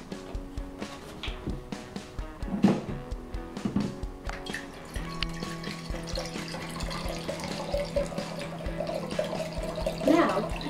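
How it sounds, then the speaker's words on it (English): Vinegar pours from a container into a jar, a steady liquid trickle with gurgles that rises in pitch as the jar fills, close and at moderate volume. "The first step is to fill your jar 3/4 of the way with vinegar."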